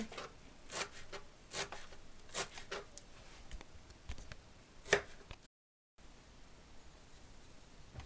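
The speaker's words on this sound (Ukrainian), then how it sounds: "Кріп нарізаємо міленько" A knife chops dill finely on a board, sparse crisp cuts in an uneven rhythm, close and quiet, with a brief break near the end before low handling noise continues.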